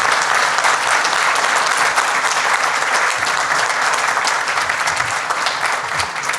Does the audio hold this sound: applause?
yes